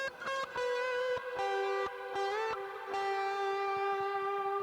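A distorted electric guitar plays a short melody with string bends, clear sustained notes sliding up in pitch with a few picked attacks, played alone at moderate volume.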